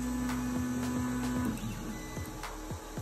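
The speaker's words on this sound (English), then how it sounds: "The printer will start moving very fast" A Geeetech A20 3D printer homing its axes at speed, with a steady motor whine that breaks off partway into a series of quick stepper clicks and thumps, heard up close without speech.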